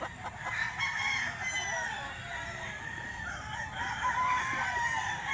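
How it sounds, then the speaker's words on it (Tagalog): Several roosters crow over a constant background of clucking chickens at a farm, the calls overlapping at moderate distance. "Mga quality manok ni Busapon."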